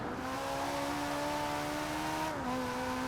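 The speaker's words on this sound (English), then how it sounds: "Yes, it is a 458 engine in the Toyota." Toyota GT86 fitted with a swapped-in Ferrari 458 engine in the Forza Horizon racing game, a steady, loud engine drone that holds pitch for over two seconds, then drops slightly as the car shifts, with no talking.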